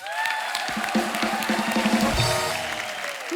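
Studio audience applauding on a comedy talk show set for the Maharani 4 cast, a dense, steady wash of clapping with some cheering, loud and sustained throughout, with a voice briefly rising over it.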